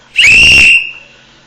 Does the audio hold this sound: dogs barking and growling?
no